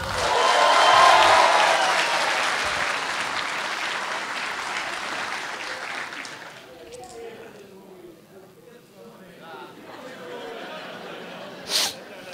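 Audience at a Portuguese comedy show bursts into loud applause after a question about FC Porto fans, fading out by about six seconds, with some murmuring and a sharp sound near the end.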